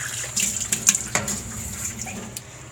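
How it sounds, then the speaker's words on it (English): A cold-water tap runs steadily nearby, water splashing into a sink with a bright hiss and occasional knocks as the flow shifts. "add more cold water"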